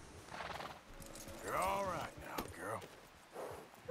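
A horse in Red Dead Redemption 2 gives a clear, rising-and-falling whinny near the middle, with a snort and soft hoof clops around it, while someone talks quietly over the scene.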